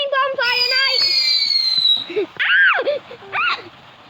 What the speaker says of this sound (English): Cool fireworks.